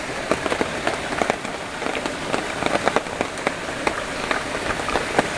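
Steady rain falls on a hilltop at 1318 metres, a dense, continuous patter with frequent sharper drops tapping close by and no voices.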